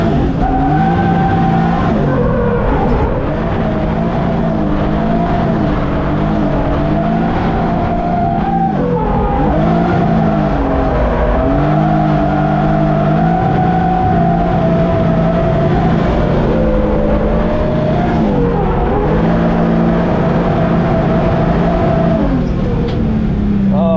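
A race car runs hard on a track, its engine howling continuously as it accelerates, shifts and lets off, with tires squealing and skidding through corners, loud and close throughout.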